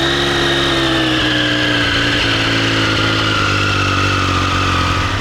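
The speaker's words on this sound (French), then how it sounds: "Le sifflement du 3 cylindres, il s'entend d'hyper loin et c'est ce qui fait la beauté de cette sonorité" A Triumph Street Triple 765 RS 2021 three-cylinder roadster runs loud and close, its engine drone carrying a high, steady whistle that slowly falls in pitch over several seconds, with no voices.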